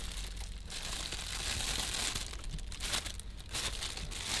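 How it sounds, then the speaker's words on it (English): A plastic baggie crinkles and rustles steadily as it is handled, a continuous crackly texture with no talking. "It's a plastic bag."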